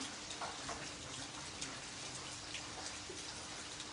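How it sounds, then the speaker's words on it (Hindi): Steady heavy rain falling in Jammu, a dense even hiss of drops with occasional louder splashes, continuous throughout with no voices. "जहाँ पे लगातार जो बारिश का सिलसिला है वो सुबह से जारी है।"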